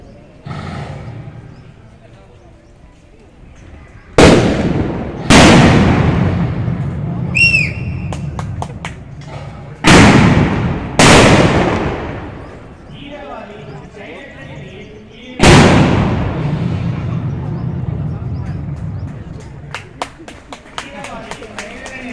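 Several loud, sharp gunshot bangs ring out at a counter-terrorist attack demonstration at an army expo in Coimbatore, Tamil Nadu, spaced irregularly among crowd noise and announcer talk, with echoing decays and a quick burst of smaller pops near the end.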